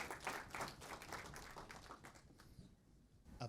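Audience applause at a monetary policy conference, a brief, faint patter of clapping from a room of listeners that tapers off after a few seconds.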